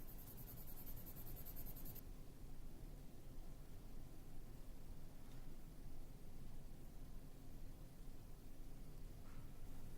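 Steady scratchy rubbing of a marker across paper, continuous strokes close up, with a faint hiss of background noise throughout.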